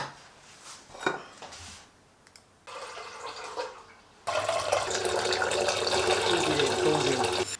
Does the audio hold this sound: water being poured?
yes